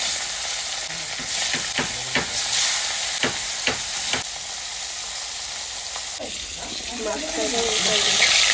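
Fish frying in hot oil in a wok, a steady sizzle with several sharp scraping clicks of a spatula, then louder bubbling crackle near the end; faint voices in the background.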